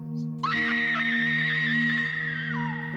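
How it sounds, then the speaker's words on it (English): A woman's sustained, piercing scream in an audio drama, rising sharply after a brief quiet moment and holding steady for over two seconds at close range. "She screams."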